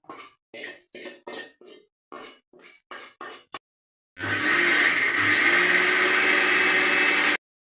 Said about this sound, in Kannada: ಈಗ ಮಿಕ್ಸಿ ಮಾಡ್ಕೊಳ್ಳೋದು ಜಾರ್ಗೆ ಹಾಕೋತಾ ಇದ್ದೀನಿ